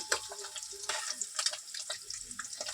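Steady crackling sizzle of egg pieces frying in a pan, with occasional scraping clicks as pieces are turned and lifted.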